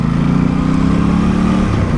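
An Aprilia RS660 motorcycle pulls away in second gear, its engine droning loudly and steadily at close range before the note shifts near the end.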